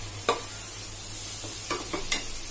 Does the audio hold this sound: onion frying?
yes